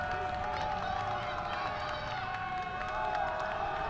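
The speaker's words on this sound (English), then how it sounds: "Vaqueros crowd getting loud." Stadium crowd noise swells at a junior college football game between Moorpark and Santa Barbara as a field goal attempt lines up, a dense, steady roar with scattered shouts and voices mixed throughout.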